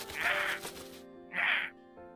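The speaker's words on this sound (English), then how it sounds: "As if expressing his grievances, the crow screeches." A crow caws twice in the video game Love and Deepspace, two harsh rasping calls about a second apart over a soft sustained game music bed.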